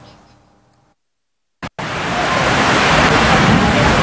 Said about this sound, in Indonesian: Angin kencang dan hujan lebat mengguyur sejumlah wilayah Kabupaten Darbasraya pada momen pemilu tahun 2024